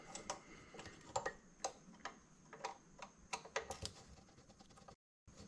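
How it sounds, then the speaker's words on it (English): A socket wrench ratchet loosens screws during teardown of a Vanguard 18HP engine, with rapid light clicking in short irregular bursts, close but quiet, then a brief drop to silence. "I'm just gonna loosen them up with the socket wrench"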